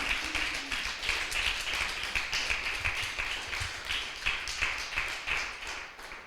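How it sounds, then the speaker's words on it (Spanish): A church congregation applauds during a Spanish-language service, rhythmic clapping steady and fairly soft throughout, heard from a short distance with faint voices underneath. "Denle un fuerte aplauso, Rey, una vez más, aleluya."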